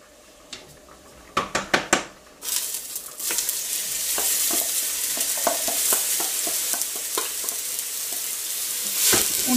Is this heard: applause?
no